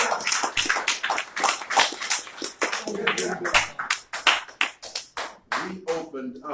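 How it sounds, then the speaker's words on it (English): Audience applause at a speech by the Honorable Minister Louis Farrakhan, a dense wash of hand claps from a crowd mixed with scattered voices and cheers, loud and close, swelling and fading over several seconds. "you can give him a round of applause"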